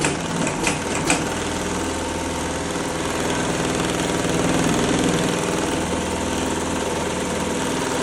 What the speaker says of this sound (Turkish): Alt kat iplikle dikiyoruz.